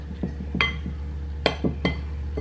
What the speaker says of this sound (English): We're just gonna mix that all together